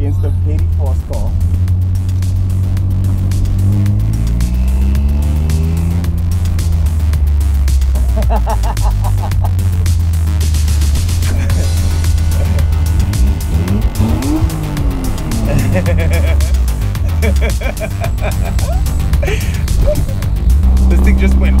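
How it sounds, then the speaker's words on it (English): A BMW E36 launches hard at a drag strip against a very fast car, engine roaring and climbing through gears with tire squeal, loud and sustained throughout, with voices talking over it. "But that was a solid launch against a very fast car."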